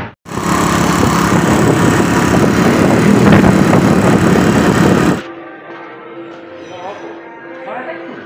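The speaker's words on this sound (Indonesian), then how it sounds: "Ngabuburitnya cuma jalan-jalan naik motor." Honda Super Cub C70 motorcycle engine running while riding, a loud steady drone for about five seconds that then drops to a much quieter idle-like hum with faint background sounds.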